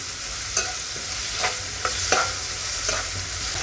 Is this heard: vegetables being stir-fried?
yes